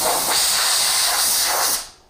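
An air blower blasting dust off a wood shop dust collector, a loud, close, steady hiss of rushing air for almost two seconds before it cuts off and fades.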